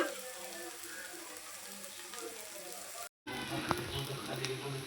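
Ridge gourd roasting in a pan, a soft continuous sizzle and crackle, close but faint, broken by a brief cut partway through, with a voice talking over it.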